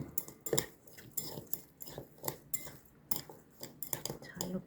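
A spoon clinks and scrapes in a bowl, tossing smashed cucumber salad with sesame oil and shio konbu in quick, irregular taps and rustles, fairly faint and close.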